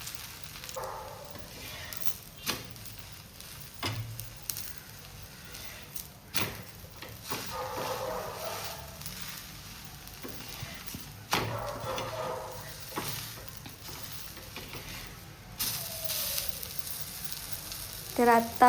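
Uttapam frying on a plain iron tawa gives a steady soft sizzle, with occasional sharper crackles and scraping clicks from a spatula, fairly close and moderately quiet throughout.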